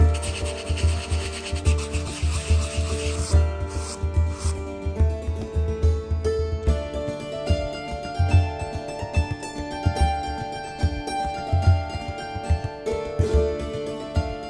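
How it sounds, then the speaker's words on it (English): Sandpaper rubs over a dried clay surface on a castle diorama, a close, rhythmic scratching of repeated strokes over a faint background hum. "When it dried, I trimmed it and smoothed the surface with sandpaper."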